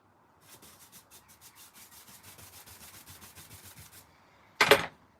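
A soft brush sweeps over carved wood in a steady series of about a dozen short, rhythmic rubbing strokes, close and fairly quiet. A sharp, loud knock follows.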